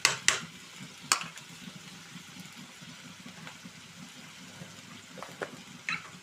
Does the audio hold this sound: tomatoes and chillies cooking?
yes